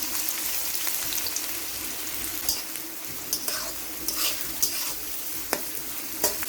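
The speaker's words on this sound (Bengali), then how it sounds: "আমি হাফ কাপ সাদা তেল দিলাম। পেঁয়াজ দিলাম 1 কাপের মতো।" Onions frying in about half a cup of white oil for a Bengali posto magur recipe: steady close sizzling with scattered pops and occasional stirring scrapes, no voices.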